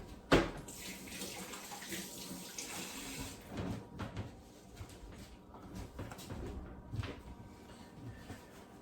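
Tap water runs steadily in a kitchen sink as a hand is rinsed beneath it, a broad splashing hiss with a sharp knock near the start and a few soft bumps, no talking.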